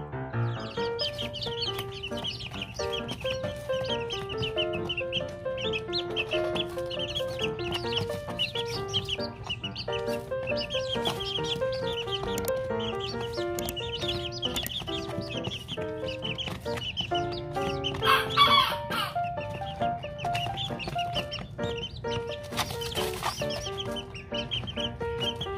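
Serama chickens, a bantam breed, clucking and calling in a small pen, a busy run of bird sounds at a steady moderate level over a background of constant hum and music-like tones, with no talk.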